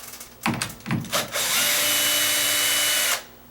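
A power drill bores into the jamb of sagging double doors: a few short, loud revving bursts are followed by one steady, sustained whine at close range that stops abruptly.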